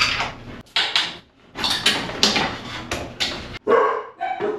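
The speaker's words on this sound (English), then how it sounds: "Oh my God, so many barking dogs." Several dogs bark repeatedly in close, loud, overlapping bursts with short gaps between them, ending in higher yelps.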